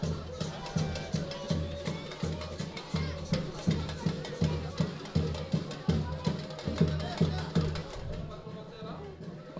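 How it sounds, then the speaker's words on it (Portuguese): Bass drum pounded by football fans in the stands at a Porto Velho versus Ji-Paraná state championship match, a steady repeated thumping beat carrying through crowd noise while a commentator talks over it. "Escuta o bumbo, escuta o bumbo"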